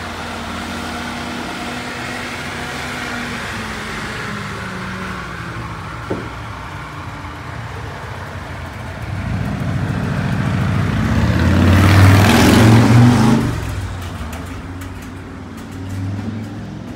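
A 1927 Graham truck drives in, its low engine rumble building gradually and peaking loudly as it pulls close, then easing off, under a constant background hum.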